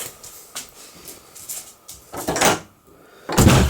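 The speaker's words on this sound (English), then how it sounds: "are you going to open the door?" A door opens in a home at night, giving a couple of brief knocks and rattles followed by a louder scraping swing and a final clunk, all close by with no talking.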